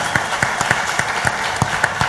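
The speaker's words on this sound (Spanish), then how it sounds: "Un aplauso para ellos, seguro que sí." An audience applauds at a public interview event, a steady burst of many hands clapping for about two seconds with no one speaking.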